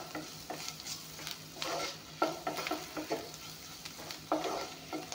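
Samosa filling with turmeric frying in a pan, stirred continuously with repeated scraping strokes over a steady sizzle, close up and without talk.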